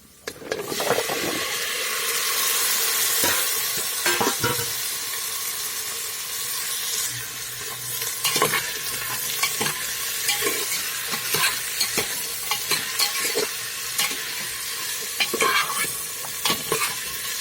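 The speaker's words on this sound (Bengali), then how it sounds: "এখন দিয়ে দেব কোয়াশ আর আলু।" Squash and potatoes frying with spices in a pan give a steady close sizzle, broken by repeated sharp scrapes and clacks of stirring.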